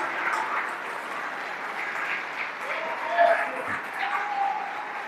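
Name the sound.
church congregation applauding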